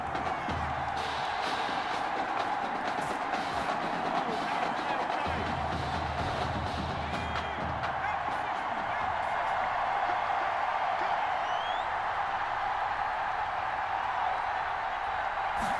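Steady stadium crowd roar from the Madden NFL 21 video game, a dense continuous wash of noise swelling after a Hail Mary catch in a Florida championship game, with a few sharper bursts and thumps over the top.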